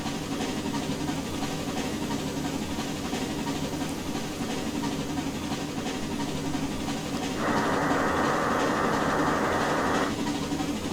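K&L Eagle River #62 steam locomotive pulls a dinner train in Trainz Simulator, a steady loud rumble of running gear and chuffing, joined by a brighter hiss for a few seconds near the end.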